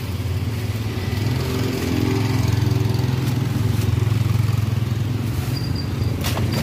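A motorcycle engine runs close by at an Indonesian street cendol stall, a steady low chugging idle that swells slightly midway, with faint street clatter at the end.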